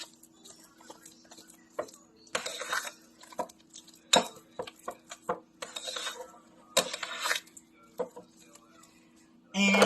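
Twice baked potato filling being stirred with cottage cheese: scattered light clinks and scraping taps of a utensil against a bowl, uneven and close, with a few louder knocks.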